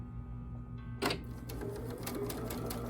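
A sewing machine stitches binding onto a quilt, a steady close mechanical run that starts abruptly after a quiet moment and keeps a fast, even rhythm of needle strokes with light rattling clicks.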